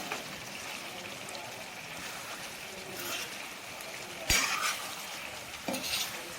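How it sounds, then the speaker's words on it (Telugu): Chicken pieces stirred with salt and chili powder in a pan for a spicy masala chicken fry, giving a soft continuous sizzle with occasional scrapes and one sharp knock of the utensil. "ఇప్పుడు సరిపడినంత ఉప్పు, కారం వేసి చికెన్ ముక్కలకి బాగా పట్టే విధంగా కలుపుకోవాలి."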